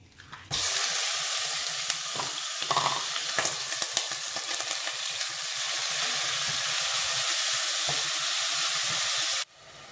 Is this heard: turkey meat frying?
yes